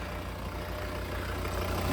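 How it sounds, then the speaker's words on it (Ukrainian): A Volvo V50 D3 R-Design with a five-cylinder diesel engine idles with a steady, even low throb and a faint rhythmic pulse, close and alone without any voices. "Послухайте, як працює гарно двигунчик у нас."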